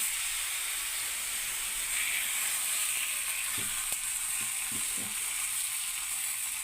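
Thalipeeth, a multigrain flatbread, sizzling on a hot griddle with oil, a steady bright hiss throughout, broken by a few soft clicks and taps near the end, with no talking.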